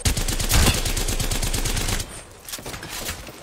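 Rapid automatic weapon fire in a video game, a loud dense burst of shots for about two seconds that cuts off, followed by quieter scattered clatter and game effects.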